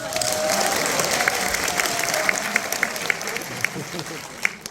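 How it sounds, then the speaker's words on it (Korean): Audience applause welcoming a professor at a barefoot-walking seminar, sustained clapping filling the hall and gradually thinning toward the end, with a voice briefly audible beneath it. "스즈키 교수님 큰 박수를 맞아주시죠"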